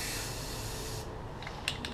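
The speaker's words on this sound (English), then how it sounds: "I am going to spray out the rest of this upside down to clear out this can" A NeverWet aerosol can, sprayed upside down to clear the nozzle, gives a steady, broad hiss for about a second, then sputters out into thinner, uneven spurts and short bursts as the can empties.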